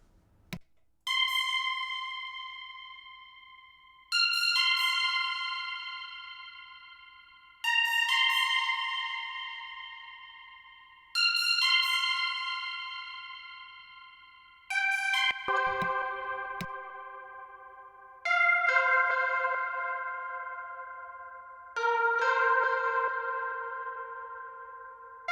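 An Echo Drop effect on a trap beat with halftime applied, a series of seven bright, bell-like synth stabs that each ring out and decay in echoing tails, spaced a few seconds apart, with a lower pitch in the later hits.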